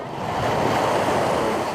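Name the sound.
waves at Honeymoon Beach, Puerto Rico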